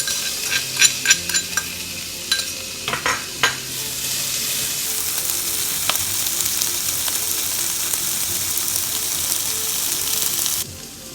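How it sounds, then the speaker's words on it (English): Minced pork stir-frying in a pan gives a continuous bright sizzle, opening with several quick clinks and scrapes of a utensil against the pan, then settling into a steady hiss that cuts off abruptly at the end. "stir frying minced pork, not too much"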